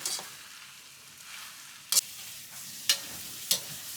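Korat-style rice noodles are stir-fried in a pan with a soft continuous sizzle, broken by three or four sharp scraping clanks of the spatula against the pan.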